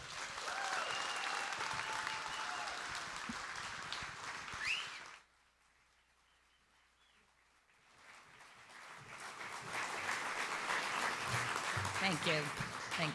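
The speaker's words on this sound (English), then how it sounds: "please give another May Institute round of applause, cheer, whoop, holler, and an enormous welcome to Ellen Hollis" An audience at a May Institute event bursts into loud, sustained applause with cheering and whoops, fades into a brief lull partway through, then swells again into strong clapping and hollering.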